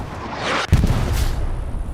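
Artillery strike explosion in the Hell Let Loose video game, a deep sudden boom midway that cuts through a rushing rumble and then rolls on with lingering debris and low rumble.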